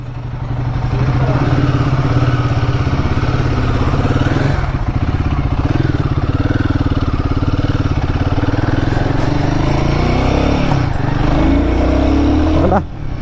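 A new motorcycle's engine runs loud and close without a break, roaring steadily while riding through the gears and climbing in pitch near the end before a brief dip.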